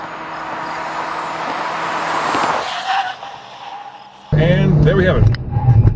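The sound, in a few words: 2014 Chevy Volt on a hot lap, brakes grabbing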